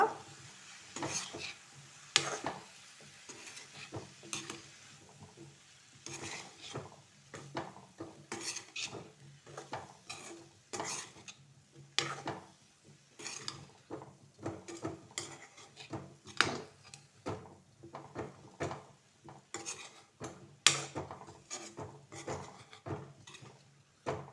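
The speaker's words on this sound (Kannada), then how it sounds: "ಎಲ್ಲ ಮಿಕ್ಸ್ ಮಾಡಿಕೊಳ್ಳುವ." Sweet potato curry being stirred and mixed in a metal pan, a spoon scraping and clanking against the pan in steady, repeated strokes with a faint sizzle underneath, close and fairly quiet throughout.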